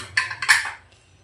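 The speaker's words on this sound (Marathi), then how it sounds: "आता कुकर थंड झाला. आता आपण ओपन करून बघूया." A cooled pressure cooker holding cooked mixed dal is opened, giving two short metallic clanks of the lid and fittings close by, then quiet.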